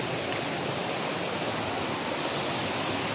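Steady rush of water pouring from a tap at a spot in Oriental Mindoro, a broad continuous hiss that stays even and close throughout with no talk over it.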